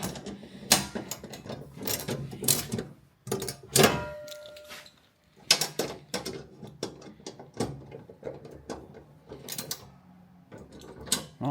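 Fixings being tightened on a folding picnic table for a Land Rover Defender L663 rear door with a Molle plate, giving repeated close metallic ratcheting clicks and clunks in irregular bursts, with no talking.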